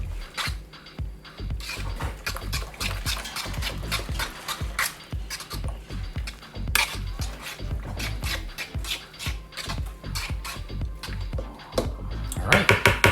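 A spoon or whisk stirs a breakfast mixture in a bowl in a home kitchen, producing rapid repeated scraping and clinking strokes against the bowl, close and fairly loud, with no talking.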